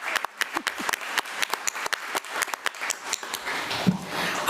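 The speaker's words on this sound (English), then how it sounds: "Let's give our students another round of applause." Audience at a school board meeting applauding students, a sustained round of clapping with sharp individual claps standing out over the steady patter, fairly close and continuous throughout.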